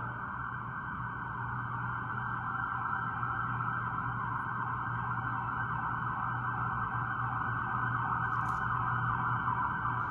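Police and ambulance sirens wail outside, a steady loud tone continuing without break through the whole stretch, with no voices over it.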